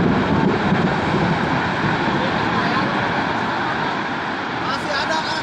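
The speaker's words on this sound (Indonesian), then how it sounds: "Angin puting beliung di Kahatek." Tornado winds roar in Kahatek, Bandung, Indonesia: a loud, unbroken rush of wind noise buffeting the microphone, dense and constant for the whole stretch.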